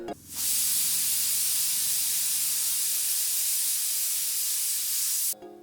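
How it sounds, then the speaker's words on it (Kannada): A kitchen pressure cooker, cooking raw mango, releases steam in one loud, continuous hiss lasting about five seconds. The hiss starts and stops abruptly. "ಈಗ ಕುಕ್ಕರ್ 3 ವಿಜಿಲ್ ಆಗಿದೆ, ಆರಿದೆ."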